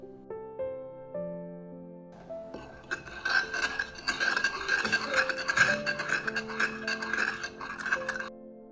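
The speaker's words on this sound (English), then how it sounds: "Mix the sauce evenly." A spoon scrapes and clinks around a bowl as sauce with 5-spice powder is mixed, a busy rasping stir over several seconds after soft music notes at the start.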